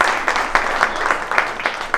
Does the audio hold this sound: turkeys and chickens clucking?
no